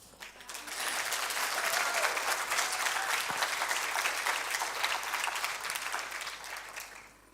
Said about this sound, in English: may I request that we give them a better clap?